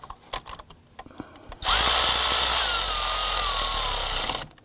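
A power tool snugs down the intake manifold bolts on a 2015-2020 Ford F-150 2.7L V6, a loud, sustained whirring burst of about three seconds that shifts in pitch, starting after some quiet clatter.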